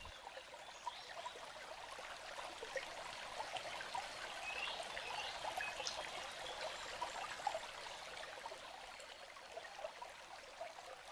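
Creek water trickles in a mountain forest, a faint, steady babble of small splashes and flowing water that continues evenly throughout.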